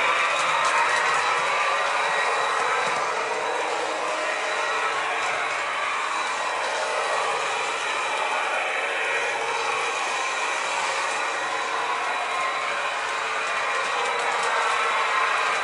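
A steady, continuous whirring hum of a model SU42 locomotive running at full speed on a layout, constant and close, with a bright rushing texture and no talking.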